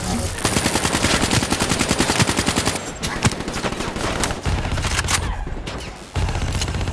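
A turret in Call of Duty Black Ops 3 fires long bursts of rapid, loud machine-gun rounds with a dense rhythmic rattle, pausing briefly between volleys, and a few heavier shots mixed in.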